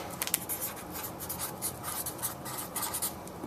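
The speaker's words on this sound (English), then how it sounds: "I'm just going to write on here, old pump" A marker writing a label onto the tape wrapped around an old shellback water pump, a continuous run of close scratchy strokes with short pauses between words.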